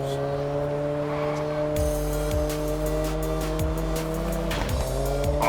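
Race cars in the Test Drive Unlimited Solar Crown video game roaring as they run, with steady droning engine tones, rising pitch sweeps and squealing tires, loud and continuous over a backing track.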